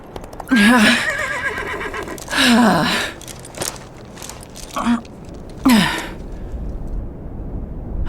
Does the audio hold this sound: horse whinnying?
yes